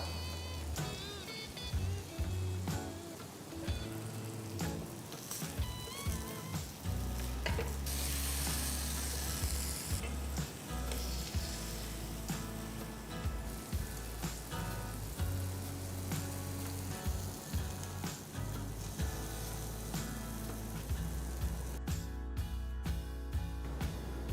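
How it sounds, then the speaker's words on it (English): Paneer pieces sizzle in ghee on a grill pan, a steady crackling fry that runs continuously throughout with bursts of louder spattering and no talking. "Now I'm going to start grilling the paneer pieces."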